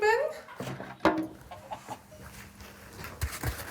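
Chickens kept at a Swiss farmhouse in Dussnang, Thurgau, clucking close by in short, uneven bursts alongside a brief squawk, with someone talking over them.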